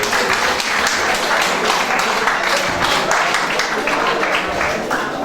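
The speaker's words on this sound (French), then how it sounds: "Merci de l'applaudir." Audience applause at a community family-day event, a steady wash of many hands clapping continuously, fairly loud and close, with no talk over it.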